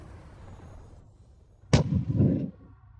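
A magical demonic cannon blast in a fantasy cultivation animation: a single sudden loud boom with a sharp crack, followed by a roaring, rumbling burst that lingers for under a second before fading.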